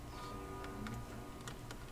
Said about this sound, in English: I don't like the noise of the grandfather clock.